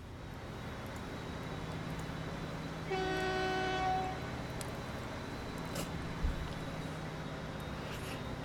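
A train in the video game Transport Fever runs with a steady low mechanical rumble, and a bright multi-tone horn sounds once for about a second, moderately loud over the continuous running noise.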